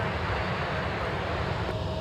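SkyWest Embraer E175LR jet at Minneapolis–St. Paul airport, a steady broadband engine roar that holds at constant loudness throughout, near and continuous with no other sounds standing out.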